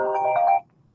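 A mobile phone ringtone plays a bright melodic electronic pattern for about half a second, loud and close, then cuts off abruptly into near silence, with no talking.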